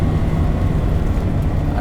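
Mercedes 190E 2.3 16v engine runs at a steady, smooth, deep and throaty drone, heard from inside the car without any talk.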